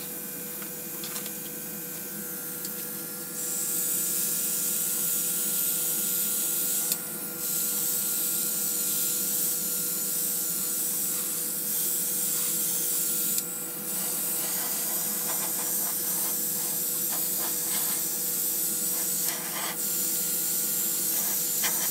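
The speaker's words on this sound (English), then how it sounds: "let me just see if I can spray up this fish and make it all nice and good." An airbrush or spray gun coats a sea bass model with paint. The hiss is steady and close and runs in long continuous bursts with brief pauses, and nobody speaks.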